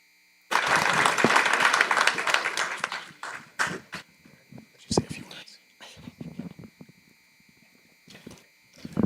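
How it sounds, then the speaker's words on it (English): Applause at a city council meeting breaks out suddenly and lasts about three seconds, then thins into scattered claps under murmured room talk and a faint steady electrical buzz. "let's give him a round of applause"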